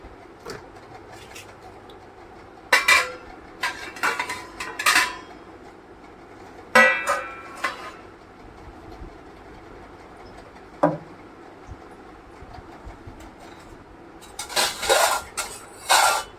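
Plates being served with rice in a home kitchen: scattered clinks and scrapes of metal dishes and utensils, several sharp clattering bursts with quiet pauses between, close by and fairly loud.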